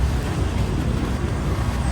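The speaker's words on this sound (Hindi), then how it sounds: "इस रोड पे काफी ट्रैफिक था और हर रोज ही हमें यहाँ पे ट्रैफिक मिला है" Steady road traffic at night on a busy street in Thailand, a dense continuous rumble of passing cars and buses with no distinct horns or voices standing out.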